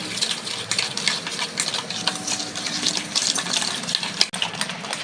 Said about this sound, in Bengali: এবার আমি এই চিনি আর ডিমটা ভালো করে মিশিয়ে নেব।